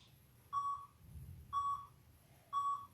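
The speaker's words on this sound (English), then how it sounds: "we'll go just after those 3 beeps" Three evenly spaced electronic timer app beeps during a workout, one about every second, clear and fairly quiet over a soft background.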